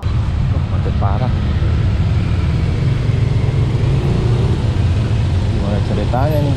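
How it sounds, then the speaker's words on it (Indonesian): Heavy traffic jam on a congested road, a steady low engine rumble of many idling cars droning continuously, with someone talking over it at times. "Macet parah."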